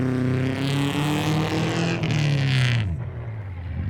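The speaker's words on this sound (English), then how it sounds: "you can hear that boxer motor in the Subaru just full revs" A Subaru boxer engine revs hard at high pitch during a backyard car race, its tone sliding down as it eases off near the end, loud and close.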